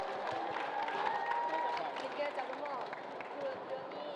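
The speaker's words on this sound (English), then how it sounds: "Give me a applause" A panel audience at a freediving event breaks into applause, with steady crowd clapping mixed with cheers and murmuring voices, moderately distant and continuous throughout.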